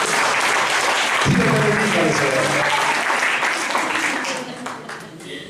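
A church congregation claps for a group of sisters, dense and sustained applause filling the room before easing toward the end, with a preacher's voice speaking over it.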